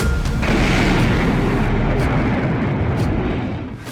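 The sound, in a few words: explosion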